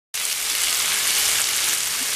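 Carrots, beans and peas sauté in a pan for vegetable fried noodles, a loud, close, even sizzle that starts abruptly and holds steady.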